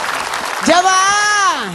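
A studio audience at an Islamic lecture program claps as a background wash under a loud, drawn-out voice calling out to the congregation.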